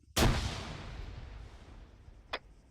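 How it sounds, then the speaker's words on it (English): A grenade explosion, called out as danger close in a military video game: one sharp, loud, close blast with a long rumbling decay, then a faint sharp crack about two seconds later. "Be advised, grenade out. Danger close."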